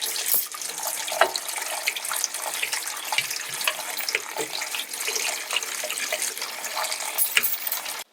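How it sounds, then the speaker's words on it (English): Tap water runs steadily into a sink while cooked rice is rubbed and rinsed under it to wash away the starch. The splashing is continuous and close, with small clicks and knocks from handling, and no one speaks. "And then rub some water over it to get rid of all the"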